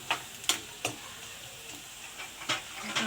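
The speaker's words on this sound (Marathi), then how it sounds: "कांदा असा चांगला फ्राय होऊन द्यायचा" Onion frying in a pan, a soft steady sizzle with sharp ticking and scraping clicks from stirring, close and fairly quiet.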